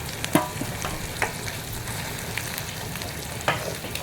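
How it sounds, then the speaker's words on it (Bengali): Chicken pieces fry in hot oil in a small home kitchen pan, a steady close sizzle with a few sharp pops and stirring scrapes spread across the clip, and no talking. "তেল আমাদের গরম হয়ে গেছে, এবার আমরা মাংসটা দিয়ে দিচ্ছি"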